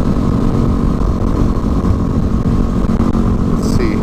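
A Yamaha WR250R supermoto motorcycle engine drones loudly and steadily while being ridden, a rough continuous rumble close by with small fluctuations in pitch. No voices.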